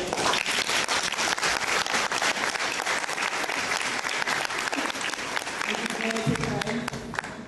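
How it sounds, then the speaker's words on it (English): Sustained, dense applause from an audience at a gallery opening for an artist's retrospective, steady and loud throughout, with faint voices and a brief low murmur near the end. "Give him a round of applause"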